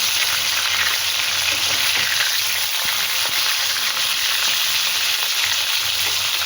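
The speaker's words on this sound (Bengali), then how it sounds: "এই মাছ ভাজা হয়ে গেছে" Fish frying in hot oil in a home kitchen, a steady close crackling sizzle that runs without a break, with no talking.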